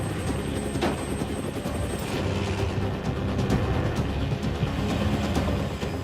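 Loud, close helicopter with a continuous rotor roar and throbbing chop filling the whole stretch, heard during aerial filming in wintry New Zealand with more than one helicopter airborne.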